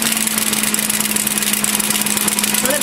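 An electric kitchen mixing machine runs steadily while whipping castella cake batter, giving a constant motor hum over a bright, whirring wash of beater noise with no pauses.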